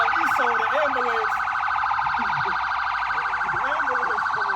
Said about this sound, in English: The ambulance coming out.